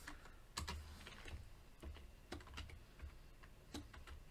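Someone types on a computer keyboard while writing Java code, a close, irregular run of clicky keystrokes with brief pauses and no talking.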